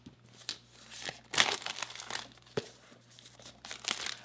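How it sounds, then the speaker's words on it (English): Plastic wrap on a package containing a Vebach Dubhe1 wireless fast charger is cut and torn open, quiet close crinkling and scattered sharp tearing crackles in short bursts against a faint low hum. "So plastic wrap, kind of just cut this open."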